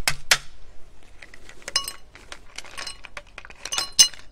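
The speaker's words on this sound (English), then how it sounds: "Get our ice in." Ice cubes clink and rattle into a glass while a sugar-free mojito mocktail is being made, with a bright initial drop followed by several scattered clinks and a final sharp clatter, close and fairly loud.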